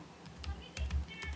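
Typing on a computer keyboard, a steady run of soft, close key clicks with a low background hum, no clear talking over it.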